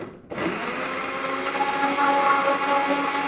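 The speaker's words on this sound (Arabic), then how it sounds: "وبعد ما ضفنا الحليب بدنا نخلطه شوي مع الكرز" A kitchen blender starts up and whirs steadily, blending milk with cherries into a smoothie, the motor loud and continuous after a brief quiet moment at the start.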